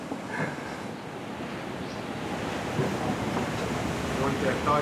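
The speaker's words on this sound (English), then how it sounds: "It is ocean, cannot be calm all the time." Waves wash against a sailing boat on the open ocean near Cape Verde, with a continuous broad rushing of water and wind that builds slightly toward the end.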